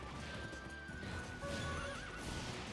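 A horse in a video game gives a long, wavering whinny over a busy game soundscape, with hoof clip-clops mixed in nearby.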